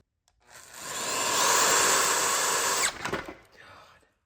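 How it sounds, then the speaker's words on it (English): A power drill works into a 1963 Corvair engine during a rebuild, its steady high whine running for a couple of seconds before it catches on a burr ridge and stutters to a jerky stop, followed by a brief rough burst. "It's like a ridge on there that the drill is catching on."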